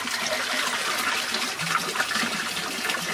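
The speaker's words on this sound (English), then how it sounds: "The flush will depend on how much water you have in the grow bed" Water gushes steadily from an aquaponics grow bed as the siphon flushes it, a continuous loud rushing and gurgling drain with no pause throughout.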